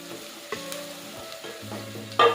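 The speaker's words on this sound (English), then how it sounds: "So I will just hold on for this garlic to cook." Garlic cooking in a hot pan gives a soft, steady sizzle at close range, with a brief louder burst of frying near the end and no voices.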